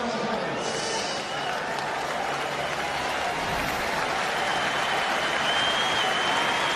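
A cricket crowd gives departing player Shahid Afridi a long, steady round of applause that fills the ground as a dense, unbroken roar of clapping, with a commentator's voice over it.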